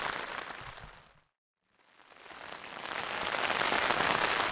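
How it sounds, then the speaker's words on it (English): Steady rain falls on a wilderness camp, a dense hiss that fades out briefly near the middle, drops to silence, then swells back louder and fuller to the end. "it hasn't stopped raining for 12 hours"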